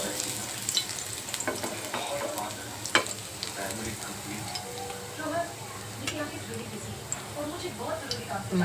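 Garlic sizzling in hot oil on a heated tava for a fish fry, a steady crackling hiss with scattered clicks and spatters from stirring. Someone talks over it.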